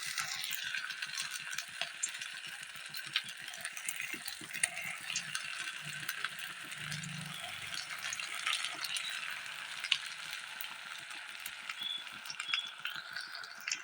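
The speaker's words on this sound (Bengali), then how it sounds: "তেলটা গরম হয়ে গেছে তেলের ভিতর আমি এবার কাটলেটগুলোকে দিয়ে দেবো" Cutlets made with flattened rice sizzle in hot white cooking oil, a dense continuous crackle and hiss with scattered sharp pops, steady and fairly close, with no talking.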